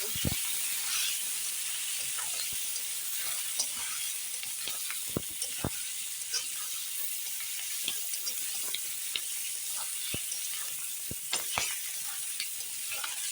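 Eggplant and green chilies sizzling in a home kitchen pan while being stirred, a steady hiss of oil broken by sharp clicks from the spatula scraping the pan, faint and continuous with no voices.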